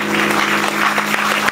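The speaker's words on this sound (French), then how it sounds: "Donnons des acclamations au Seigneur." Congregation at a church wedding ceremony applauding in a dense, steady wash of clapping, fairly loud and close, with a sustained tone or music running underneath throughout.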